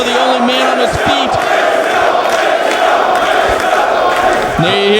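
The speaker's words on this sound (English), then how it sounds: "There you hear the crowd showing their appreciation to Jay and Mark Briscoe" A large wrestling arena crowd roars and cheers loudly and continuously for the wrestlers, with whoops and yells rising over the dense crowd noise and brief bursts of commentary voices.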